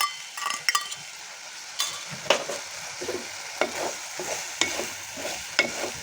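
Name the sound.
stir-frying egg with onion greens in a pan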